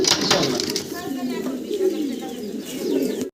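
Fancy pigeons in a Bangladeshi pigeon seller's loft give close, continuous low cooing with faint chirps, while people talk throughout.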